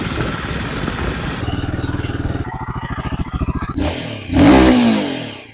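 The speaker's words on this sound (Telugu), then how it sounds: "ఇంజన్ సౌండ్ మాత్రం హిమాలయన్ అనే పేరుకి మ్యాచ్ అయ్యేలాగా ఉంటుంది" A 2025 Royal Enfield Himalayan motorcycle engine runs close by, starting with a steady idle, then a rapid pulsing throb, before a loud rev that swells near the end.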